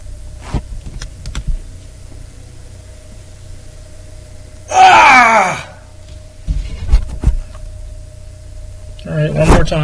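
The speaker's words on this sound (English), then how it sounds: "Scream out a little more too." A staged scream recorded for a horror film breaks out as one loud, wavering cry lasting about a second amid quiet room noise, followed by low voices and rustling.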